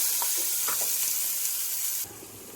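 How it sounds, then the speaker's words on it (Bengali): Prawns fry in hot raw mustard oil, giving a dense, even, bright sizzle at close range with a few faint utensil knocks, until the sound drops abruptly to a much quieter hiss near the end; no one speaks. "তেলটা গরম হয়ে গেছে, তাই এখন তেলের মধ্যে চিংড়ি মাছগুলো ফ্রাই করার জন্য দিয়ে দিচ্ছি।"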